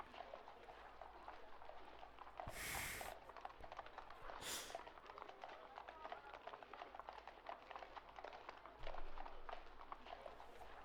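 Horses clip-clop outside in a small city street, a faint, steady patter of hooves at a distance with bustle around, a couple of brief louder bursts breaking through and faint voices underneath.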